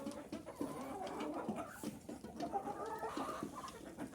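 Several chickens and roosters cluck and murmur close by in an overlapping, continuous chatter, with scattered louder calls among the flock.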